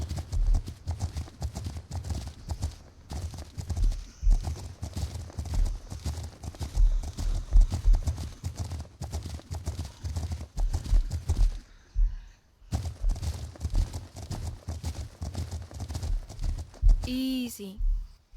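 A horse trots in a horse video game with steady, rhythmic clip-clop hoofbeats that pause briefly before resuming, under a person talking.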